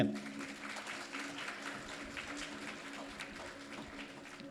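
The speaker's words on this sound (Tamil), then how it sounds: "ஒரு கைத்தட்டு கொடுங்க நீங்களாவே." An audience at a school function applauds, a quiet, distant wash of clapping that holds steady for several seconds in a large room.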